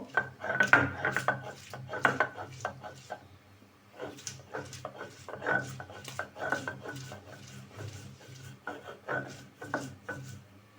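Ripe green chillies are ground by hand for a chepa shutki dried fish curry, giving rhythmic rough scraping and rubbing strokes with occasional knocks, close and moderately loud.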